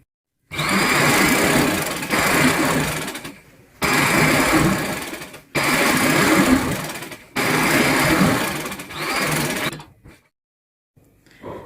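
An electric sewing machine stitches elastic into the waistband of a three-layer sharara, running in five loud sustained bursts of whirring with short pauses between, then falling silent before a final brief start.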